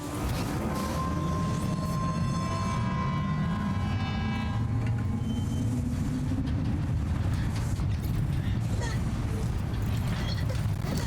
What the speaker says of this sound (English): Glad we get to try out our newly built monorail.